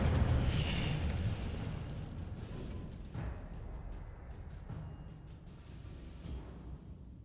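Incendio fire spell from the video game Hogwarts Legacy bursting in a fiery roar, fading into scattered pops and crackling booms of combat at moderate loudness.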